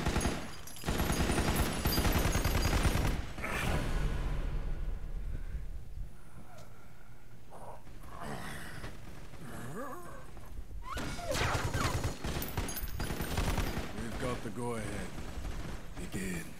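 Gunfire in Metal Gear Solid 4, with bursts of rapid shots and heavy firing at the start and again later, separated by quieter stretches with clanks and movement, and voices talking between the volleys.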